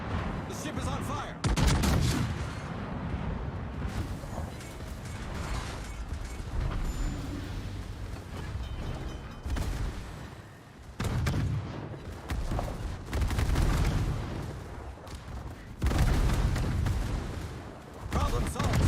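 Warship guns fire in World of Warships as repeated heavy booms and blasts at irregular intervals over a constant rumble of battle, with people talking.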